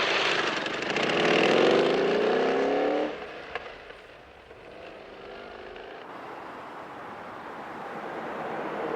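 A car engine runs steadily, louder and rougher for the first few seconds, then settling into a quieter, even hum.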